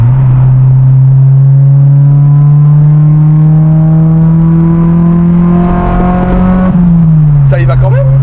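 A Honda Del Sol's engine drones loud and close as the car drives and accelerates, its pitch climbing steadily before a brief shift-like dip and a renewed pull.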